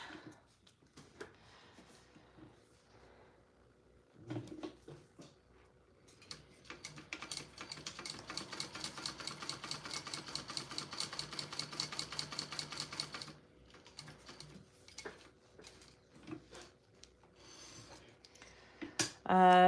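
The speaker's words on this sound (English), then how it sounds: "I'm going to sew the ends" A sewing machine stitches the ends of a bag in a fast, even burst of mechanical clicking lasting several seconds, with quieter handling clicks and pauses before and after.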